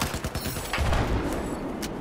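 Rapid bursts of M60 machine gun fire in the game Battlefield 4, a quick rattling string of shots up close, then a heavier boom and scattered gunfire further off.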